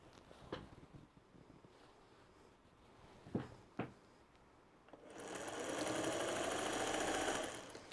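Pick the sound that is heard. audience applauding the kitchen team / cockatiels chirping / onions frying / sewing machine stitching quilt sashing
sewing machine stitching quilt sashing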